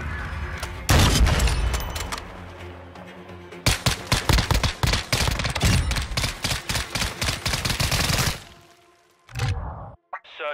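Rapid bursts of gunfire and heavy booming blasts from Modern Warfare II Search and Destroy gameplay, loud and dense, broken by a brief pause before a couple of final shots.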